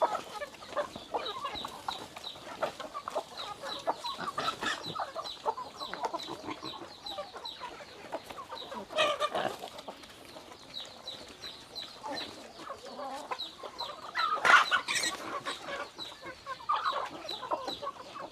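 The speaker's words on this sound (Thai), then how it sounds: "ร้องเจี๊ยบๆอยู่ข้างในครับทุกคน" Chickens cluck and chicks peep continuously nearby, a busy chatter of small calls with a few louder squawks.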